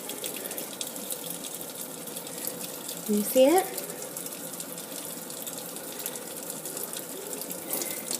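Tap water runs steadily into a sink while makeup brushes are rinsed clean, a continuous close splashing hiss with a brief louder gush midway, and someone speaks softly over it.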